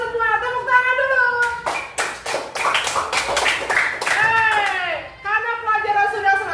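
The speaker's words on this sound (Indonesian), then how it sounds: "Tepuk tangan dulu." A fourth grade class in a Christian religious education lesson claps hands in a quick, rhythmic burst of sharp, close slaps. Children's voices and an adult talk before and after the clapping.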